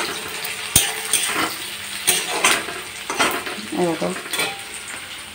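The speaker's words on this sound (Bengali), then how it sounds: "চিকেনটা পেঁয়াজ ভাজছি" Onions fry for chicken curry in a pan at home, giving a steady sizzle broken by sharp clanks and scrapes of a spoon stirring against the metal. A voice speaks briefly over the cooking.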